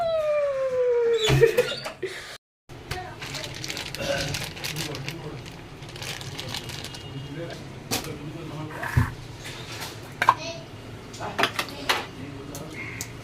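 A cat meows in a kitchen, one drawn-out falling cry near the start, amid scattered clinks of dishes and cutlery while a person talks.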